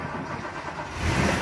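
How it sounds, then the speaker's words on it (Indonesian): A car engine started through a fingerprint start system turns over and catches, a short rising mechanical rumble that settles into a steady idle, close and fairly loud. "Ya, mesin mobil akan hidup dan sistem ini akan berfungsi normal kembali"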